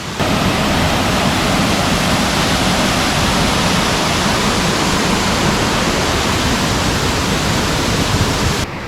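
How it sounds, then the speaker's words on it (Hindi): The lower falls of Botalda waterfall roar in a loud, constant, broad wash of falling water from nearby, with no voices. "तो गाइस ये बोतलदा वाटरफॉल है।"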